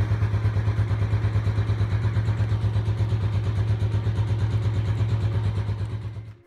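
An Italika FT125 motorcycle engine idles steadily up close, with a low, even throbbing pulse that holds for several seconds before fading out at the end.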